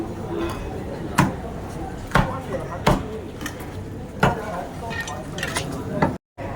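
Fish being cleaned and cut at a market stall, with sharp knife chops landing at irregular intervals over a busy background of market bustle and murmur.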